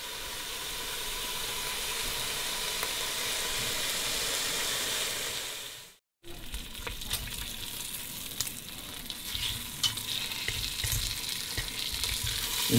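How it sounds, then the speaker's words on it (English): Ground beef and ground chicken fry in bacon grease for a Brunswick stew, a steady loud sizzle that drops out briefly, then returns with stirring and crackling, no voices. "fry up my ground beef and my ground chicken"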